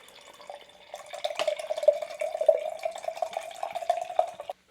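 A pink raspberry tea drink is poured, giving a steady trickling, splashing liquid stream with a bubbling tonal gurgle that builds after the first second and stops abruptly near the end.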